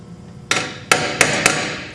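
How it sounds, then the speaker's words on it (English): Center punch struck by a hammer into sheet metal, four sharp metallic taps spaced unevenly over two seconds, close and distinct with ringing tails. "Take my center punch"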